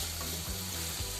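Chicken fry sizzling in a home kitchen pan, stirred once or twice with a loud scrape midway, the frying hiss steady and close with no talk.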